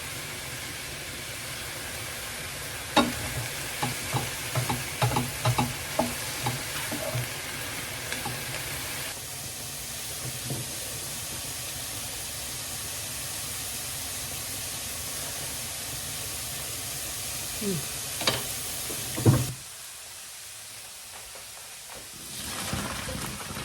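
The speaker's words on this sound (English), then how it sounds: "I'm gonna add the mushrooms at the same time, and I'm just gonna cook them down until they start to brown" Mushrooms cooking oil-free in a pan for a stroganoff: a soft steady sizzle and hiss runs throughout, broken by clusters of scraping, clicking stirring strokes and a few louder knocks.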